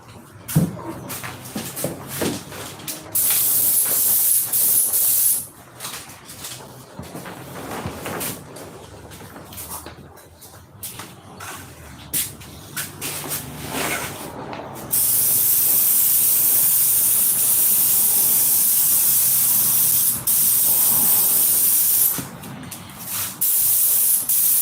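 A spray gun lays down a final finish coat in long, loud continuous hissing bursts, alternating with quieter stretches of shop noise between passes.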